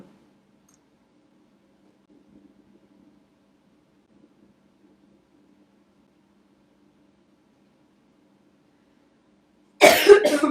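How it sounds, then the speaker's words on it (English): One short, loud burst of coughing, close to a microphone, breaks a long stretch of near-silence. "I'm so sorry for coughing into the microphone."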